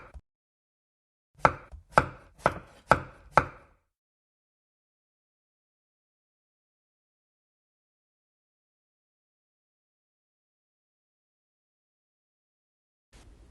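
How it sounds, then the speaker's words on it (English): A knife chops green onion on a board in five crisp, evenly spaced strikes over about two seconds, close and clear, with silence after. "So I'm going to chop up some green onion."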